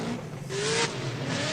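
Alan Boss's Nissan 350Z drift car crosses the finish line in a professional drift series round. The engine tone rises as the car accelerates, a whining pitch climbs, and tyre noise is heard at a moderate distance.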